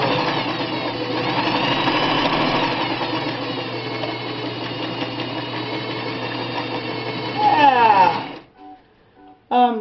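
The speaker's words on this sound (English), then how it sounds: "The sound of this machine, it's got a vertical motor with a direct gear drive" An industrial sewing machine with a vertical motor and direct gear drive stitches twill at about ten stitches per inch, a loud steady whirring hum that runs for eight seconds, surges briefly, then stops with a few faint clicks.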